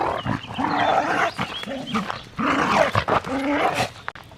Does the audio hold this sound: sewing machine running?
no